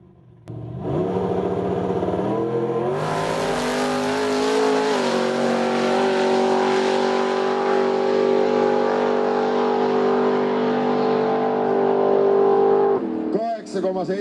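A race car driving alone on a track toward a class win, its engine note rising through a gear, then holding a loud steady whine before a brief change at the end.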